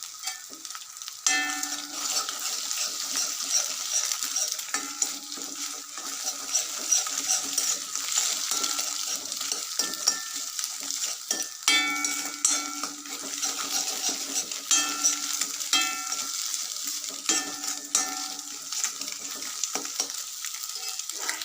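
Two eggs fry in a pan with a little turmeric powder, a continuous close sizzle broken by frequent metallic clinks and scrapes of a spoon stirring against the pan.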